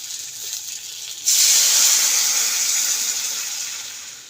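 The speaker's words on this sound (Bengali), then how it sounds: "এটা ভালো করে একটু ফুটে যাক।" Masoor lentil soup in a pot, made with dal boiled with salt and turmeric, gives off a soft hiss that suddenly swells into a loud, steady sizzling bubble and then slowly eases off, with no talking.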